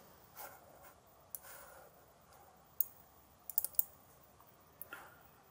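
A computer mouse gives a handful of faint, crisp clicks at irregular intervals, some single and a few in a quick cluster, in a quiet room.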